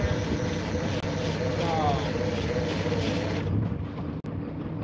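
A single 315-horsepower Cummins 5.9 BTA diesel on a crab boat drones steadily beneath wind noise, a continuous low engine rumble that cuts out abruptly near the end.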